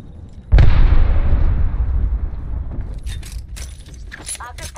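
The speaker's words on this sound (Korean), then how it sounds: "수류탄 받아라! 수류탄이나 먹어!" A grenade goes off in Apex Legends with a sudden loud blast that rumbles and fades over about two seconds, followed by faint clinks and a shouting voice.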